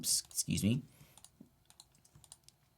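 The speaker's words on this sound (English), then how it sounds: "I'm holding down the shift key and clicking on them" Computer keyboard and mouse clicks while the shift key is held down, a quick burst of sharp taps near the start followed by sparse, fainter clicks, with a brief voice-like sound early on.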